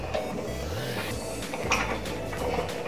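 A utensil scrapes and clinks against a metal pot in slow, uneven strokes while stirring coffee pudding mixture, close by, with a low background hum.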